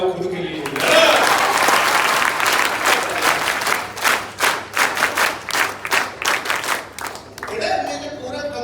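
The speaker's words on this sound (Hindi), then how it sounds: "जोरदार ताली बजाओ खुद के लिए।" An audience bursts into loud, dense applause, which breaks into rhythmic, pulsing group clapping before settling back into a steady patter.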